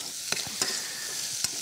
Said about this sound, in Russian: Это уже не назовешь пассирование, а это именно обжарка.